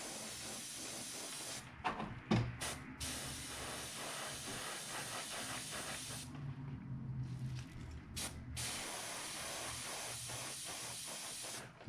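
An airbrush hisses steadily as it sprays sepia paint onto a heated micro trout fishing lure, a continuous close spray broken by a few brief pauses.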